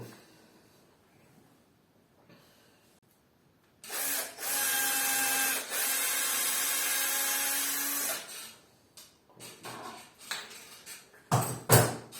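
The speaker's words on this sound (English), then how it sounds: "I will first use the drill to open a little bit the space" A power drill whirs steadily at high speed for about four seconds, briefly dipping once, followed by clicks and clattering of handled tools.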